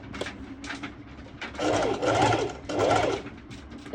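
A home sewing machine runs a zigzag stitch on fabric for a cropped top, with a few short whirring bursts followed by three longer rhythmic runs of stitching.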